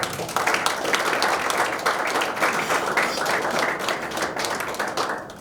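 Audience applause at an association election and handover ceremony, a dense, steady wash of many hands clapping that holds at full strength for the whole stretch, with no voices over it.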